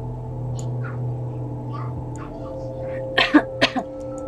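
Quick burst of sneezes or coughs near the end, three or four sharp bursts after a quiet stretch with low hum and faint background noise.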